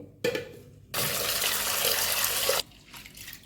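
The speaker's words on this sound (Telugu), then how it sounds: "కందిపప్పును ఒక టూ టైమ్స్ అయితే కడిగి వాష్ చేసుకోవాలి" Water runs loudly in bursts as red gram lentils (toor dal) are washed in a bowl, a short splash and then a steady rinsing rush of about two seconds, followed by softer clinking and swishing.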